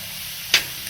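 Picanha steaks hit a hot Blackstone griddle with a single short, sharp sizzle that quickly fades into a low steady hiss.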